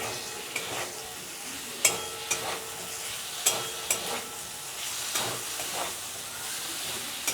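Boiled soybean chunks and potato stir-fried with spices and chopped chili in a hot pan, a continuous close sizzle broken by repeated scraping clinks of the stirring utensil at an uneven pace.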